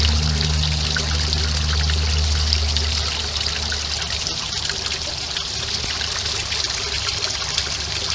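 A pond pump drives a backyard fountain, and its water trickles and splashes in a steady, fairly loud stream. A low hum sits under the water for the first few seconds, and no one speaks.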